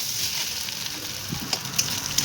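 Banana stem frying in a pan with a soft, steady sizzle, plus a few faint scraping stirs near the end, heard up close with no talking.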